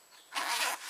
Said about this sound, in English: Inside of it there's a YKK zipper.